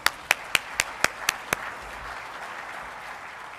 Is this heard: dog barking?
no